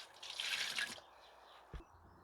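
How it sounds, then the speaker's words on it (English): Water splashes and hisses briefly as it is poured into a Hotbin compost bin, then stops, followed by a single soft thud. The pour is quiet and close. "So I'm just going to pour, some water in there."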